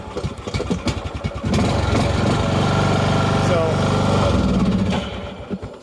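Husqvarna LTH 18538 riding mower engine running steadily and loud for several seconds after a rough, pulsing start, then dropping off near the end, with people talking over it.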